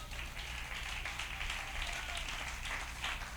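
A church congregation applauding in praise during a Spanish-language sermon, a steady, diffuse patter of many hands, soft and somewhat distant, with no speech over it.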